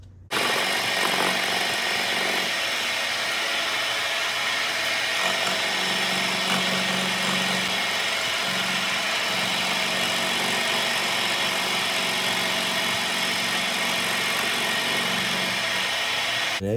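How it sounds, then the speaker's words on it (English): Milling machine with an end mill cutting a seam groove into a Harley Knucklehead engine case half, a steady loud motor whine and cutting hum running continuously without talk. "I'm going to go ahead and cut that case seam groove"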